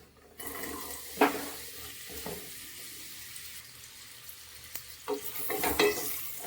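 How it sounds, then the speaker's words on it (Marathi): Chopped onion dropped into hot oil in a home kitchen pan, sizzling and crackling close by with a sharp burst near the start and louder spitting toward the end, no voices. "थोडंसं तेल वगैरे टाकूया."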